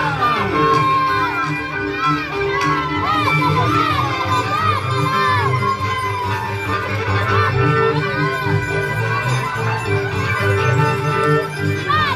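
A lively crowd shouts and cheers continuously at a competitive dance-battle event, a loud, dense wall of voices and whoops with a little clapping, heard together with music and an announcer.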